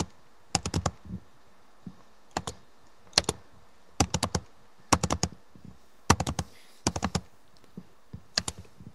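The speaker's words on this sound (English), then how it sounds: "your keyboard is very loud." Computer keyboard typing comes through loud and close, in irregular bursts of sharp clicking keystrokes with brief pauses between them.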